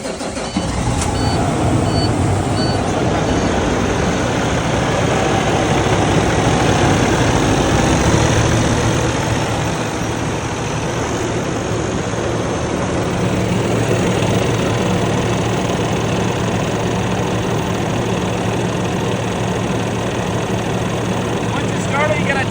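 An International Prostar truck's ISX-15 diesel engine idles steadily after starting following a fuel filter change, a constant low rumble with mechanical clatter throughout, fairly close and moderately loud.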